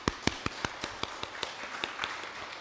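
A church congregation claps in welcome, a thin, steady run of sharp, evenly spaced claps heard fairly close with no talk.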